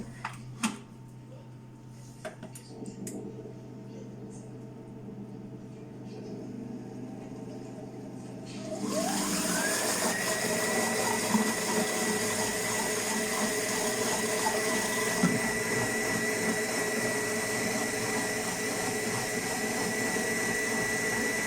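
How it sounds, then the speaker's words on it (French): A Thermomix whirs up to speed mixing veal stock, a loud steady motor drone with a rising whine that starts abruptly after quiet kitchen clatter and then holds constant. "Ensuite, nous allons mélanger tout ça."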